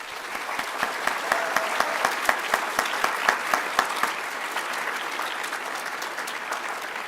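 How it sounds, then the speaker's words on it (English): Applause from the audience at a middle school 8th grade promotion night, with many hands clapping in a steady, moderately loud wash and sharper individual claps standing out near the start before it settles. "So let's all give them a round of applause."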